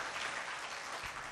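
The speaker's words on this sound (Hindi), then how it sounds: "इसके लिए भी एक बार आप ताली बजा सकते हैं।" Audience applause at a national research scholars' gathering, a brief, even patter of many hands clapping, moderately faint and continuous with no voices over it.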